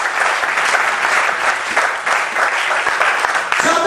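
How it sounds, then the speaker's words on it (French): Church congregation clapping for the word of God, loud sustained applause from many hands filling the room, with a voice coming in near the end. "let's give a hand to the word of God"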